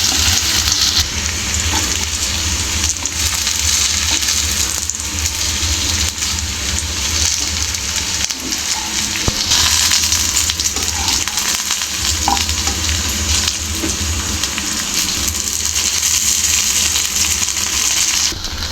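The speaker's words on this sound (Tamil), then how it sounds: "இது நல்லா வந்து ரெண்டு பக்கமும் நல்லா ஃப்ரை ஆகணும்" Slices of raw banana (valakkai) fry in oil in a pan for a Tamil-style fish-like fry, giving a loud, steady, close sizzle that continues without a break and with no voices.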